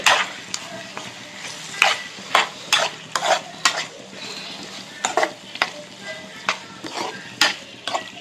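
Prawns dry-frying in a pan with a steady low sizzle, punctuated by frequent sharp clicks and scrapes of a utensil stirring against the pan, close up and irregularly rhythmic.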